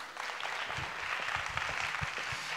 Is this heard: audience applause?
yes